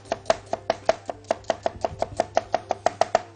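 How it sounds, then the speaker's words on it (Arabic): A knife steadily chopping onion on a cutting board in a kitchen, with about twenty crisp, evenly spaced close taps over a low background hum and no voices. "البصل كده قطعناه ايه جوانح"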